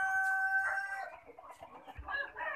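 Kadaknath chickens on a farm, a rooster crowing loudly up close followed by a run of clucks and squawks from the flock, with no talk over them.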